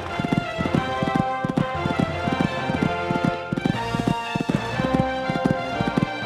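A horse gallops over a cross-country course at amateur horse trials in Sydney, its hoofbeats a steady, rhythmic drumming that runs the whole way through beside a sustained tonal background.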